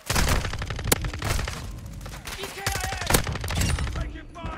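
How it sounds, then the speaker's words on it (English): Rapid automatic gunfire and sharp shots from the Modern Warfare 2 video game, loud and continuous bursts layered with game effects and a few louder cracks. "Who's shooting me?"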